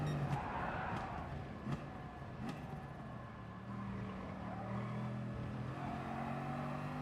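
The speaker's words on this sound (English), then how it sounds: "I wasn't expecting this car to brake that well." Bugatti supercar in a video game, its engine droning steadily with tire skid and braking noise, a few sharp transients early on, continuous and fairly even in loudness.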